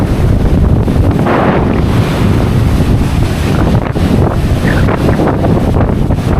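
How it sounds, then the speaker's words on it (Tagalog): Loud, continuous roar of wind buffeting the microphone over crashing ocean waves, with no voices. "Hindi pa masyadong ngayon, sobrang lakas ng alon."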